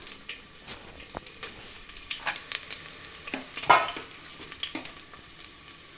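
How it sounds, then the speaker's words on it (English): Microwaved vegetables go into a pan of sautéed okra and fry with a close, crackling sizzle. Intermittent spoon clicks and scrapes of stirring cut through the steady hiss. "Now I am adding all my veggies."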